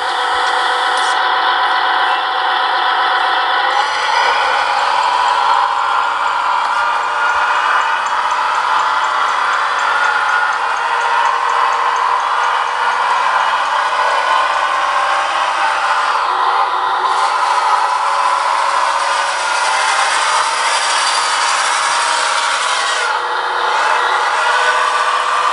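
A Wedico 740 RC truck's sound module plays a steady, unbroken engine idle hum, fairly loud and even for the full length with no talking.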